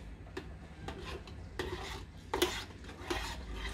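A spoon slowly stirring rice in coconut milk in a pot, soft rasping scrapes at an unhurried irregular rhythm, quiet and close with no talking.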